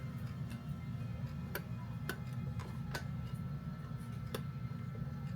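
A vintage Star Wars clock ticks steadily, the sharp regular ticks faint over a low background hum.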